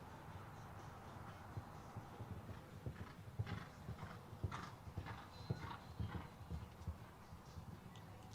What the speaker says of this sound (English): A nice forward canter to the last over that Equifeeds fence